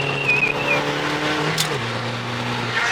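A VW Polo is driven hard with a steady engine drone that shifts pitch as it changes gear, heard from inside the car along with a brief high squeal.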